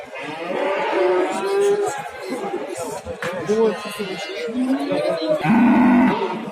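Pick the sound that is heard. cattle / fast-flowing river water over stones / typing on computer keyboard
cattle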